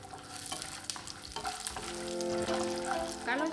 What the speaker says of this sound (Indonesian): goreng 200 gram kacang tanah, kemudian 5 butir kemiri langsung digoreng bersamaan dengan kacang.